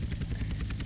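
Helicopter in the video game GTA San Andreas, its rotor beating in fast, steady chops over a continuous engine drone at moderate level, with no talk.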